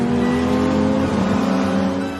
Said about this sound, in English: I floored the accelerator. My car shot forward like an arrow, overtaking dozen vehicles in a row.